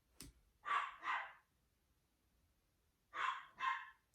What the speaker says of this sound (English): I have a dog, a chihuahua. She barks a lot.